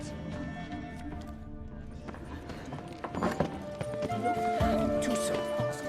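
Horse hooves clip-clop in the video game Witcher 3, a steady rhythmic trot building into a louder gallop in the second half, mixed with game music and character voices.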